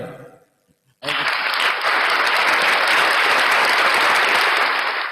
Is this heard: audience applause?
yes